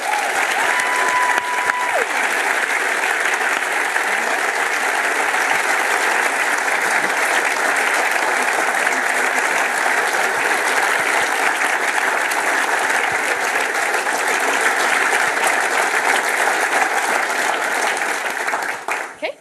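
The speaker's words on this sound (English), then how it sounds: "Let's give them a round of applause." Sustained, loud applause from a conference audience at a closing session, steady and dense for the whole stretch and tapering only at the very end.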